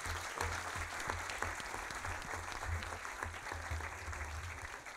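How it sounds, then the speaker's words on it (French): An audience at a conference applauds the Grand Rabbi of France, a dense, steady round of clapping from a hall full of people that continues evenly throughout. "On peut vraiment encore vous applaudir."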